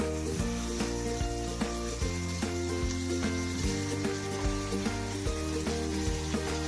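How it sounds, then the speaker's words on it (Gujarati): Chopped tomatoes sizzle in a hot pan with softened onion for sev usal, a soft frying hiss with light clinks and taps from the pan, faint and steady throughout. "હવે આપણે ટામેટા નાખશું।"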